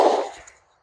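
One sharp, loud report from an FN Reflex 9mm pistol bursts out and then decays quickly into silence within about half a second.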